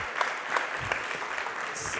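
Brief burst of audience applause at a talk on adverse effects of psychedelics at the ALPS 2023 conference, a steady patter of many hands clapping at moderate level with faint crowd noise, ending in a brighter swell.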